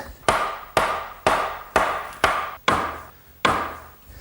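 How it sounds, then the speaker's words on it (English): Seven evenly spaced, sharp wooden knocks ring out as a mallet drives the joints of an English garden bench together, each strike loud and close with a short decaying ring. "carefully slip these together and drive them down with my mallet"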